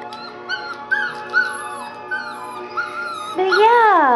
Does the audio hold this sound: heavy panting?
no